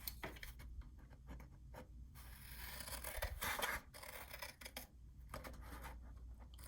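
Scissors cutting junk journal paper, close and faint snips and longer slicing strokes with light paper rustle, no talk.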